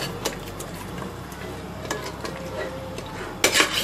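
Mutton fries and is stirred in a pot with whisked yogurt, making a soft background sizzle with scattered spoon clinks and scrapes against the metal and a louder clatter near the end.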